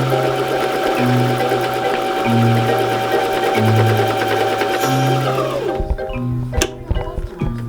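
A sewing machine stitching fabric runs loud and close in a steady rapid mechanical rhythm with a pulsing motor drone, then slows and stops, leaving a few clacks and knocks.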